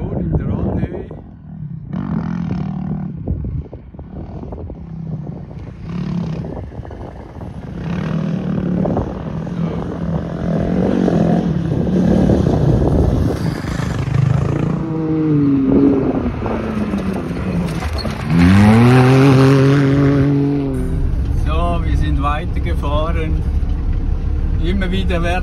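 Off-road vehicles roar past one after another across desert sand dunes, engines rising and falling with loud revving passes and a strong whining sweep near the end, while people talk over the noise.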